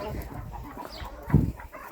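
Bantam hens cluck softly while being fed potatoes, low murmuring calls under ambient farmyard noise, with one louder close cluck near the end.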